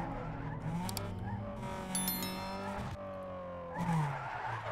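In the racing game Need for Speed Underground 2, a car drifts with a sustained engine whine and squealing, skidding tires that rise and fall in pitch over several seconds.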